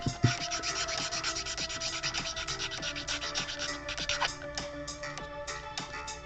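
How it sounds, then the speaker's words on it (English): Continuous abrasive rubbing and scratching of sandpaper over a sculpted model of Godfrey from Elden Ring, a steady close rasp with small bumps in rhythm and no talking. "Make sure you're not sanding away something you don't want to sand away."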